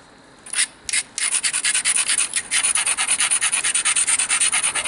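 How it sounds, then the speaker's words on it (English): Knapped flint stone edge being ground, a steady run of rapid scraping rubs after a couple of separate strokes, close and fairly loud with no talking. "I think I'm going to grind this"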